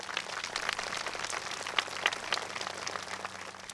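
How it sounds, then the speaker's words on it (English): Applause from a crowd at a high school groundbreaking ceremony, a dense crackling patter of many hands clapping throughout with a few sharper individual claps standing out. "Let's give them a round of applause."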